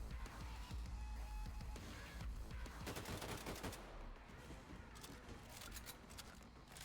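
Sustained assault rifle fire in Wolfenstein 2, dense rapid gunshots crackling almost continuously through a busy firefight, heard faintly.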